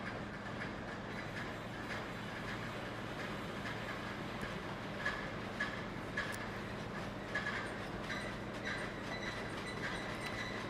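A train in a railroad video game rolls steadily along the rails with a continuous low rumble, a faint rhythmic clatter and occasional light metallic clicks, all at an even moderate level.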